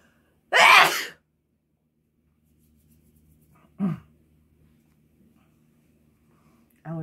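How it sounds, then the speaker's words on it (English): A single loud, close sneeze bursts out sharply, followed by quiet breathing and a softer vocal sound a few seconds later. "I have to sneeze."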